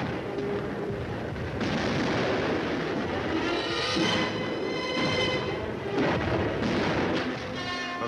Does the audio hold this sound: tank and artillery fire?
yes